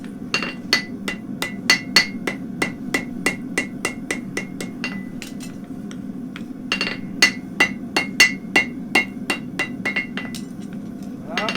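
Steel hammer blows straighten a welded Mustad horseshoe. Dozens of crisp, ringing metallic strikes land in a steady rapid rhythm, pause briefly, then resume close and loud.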